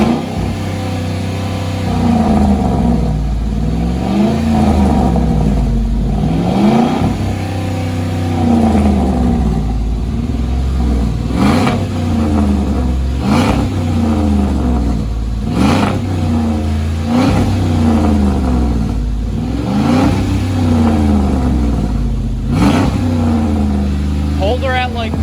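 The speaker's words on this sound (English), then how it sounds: "Rev her up." A Chevrolet Silverado pickup engine revs loud and close, rising and falling and then held at a steady high idle, with a voice talking over it.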